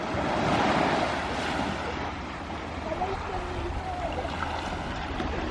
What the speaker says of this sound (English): here comes a bigger. Oh no. Big wave, big wave, big wave